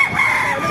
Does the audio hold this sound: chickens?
yes